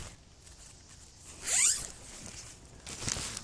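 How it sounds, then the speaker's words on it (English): A zipper on the vestibule of a Eureka TCOP solo tent is pulled open in one quick rising rip, close and crisp, followed by a brief rustle of tent fabric against quiet background hiss. "Let me open up the vestibule, and so far all the zippers on it have been with the lanyards."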